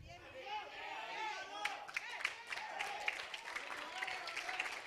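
A church congregation applauds during a sermon, scattered sharp claps building into steady clapping, with chatter and voices mixed in beneath.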